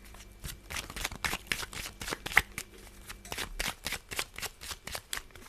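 Tarot cards shuffled by hand for a reading, a steady series of crisp riffling bursts and soft slaps repeating about twice a second, close and fairly quiet, with no talking.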